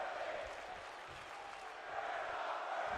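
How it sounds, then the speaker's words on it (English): A virtual arena crowd in the wrestling video game WWE 2K23 cheers and applauds in a steady, distant-sounding roar that swells slightly near the end, with no voices standing out. "The crowd absolutely loving this matchup."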